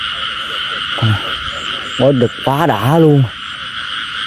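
A frog croaks in a flat open field at night: three loud, nearby throaty calls, the last a longer rippling run, over a constant high insect chorus, with someone speaking briefly between them.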